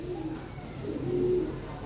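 Red Lahori pigeons giving soft low cooing calls, a brief murmuring coo close by over a hissy background, with no talking.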